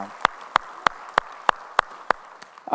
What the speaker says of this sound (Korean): 우리의 찬양받을 주님께 영광의 박수 올리겠습니다.